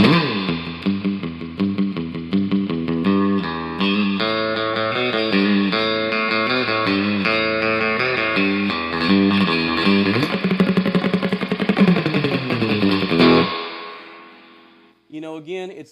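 Electric guitar played through a Lab Series L9 amp with the reverb turned up, strummed chords and riffs ringing with a wet, surfy spring-reverb wash, continuous and loud, then cutting off near the end before a brief final strum.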